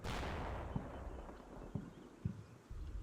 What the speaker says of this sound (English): Oh, mortars in the rear as well. There's mortars everywhere.